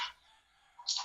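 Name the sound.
hen clucking after laying an egg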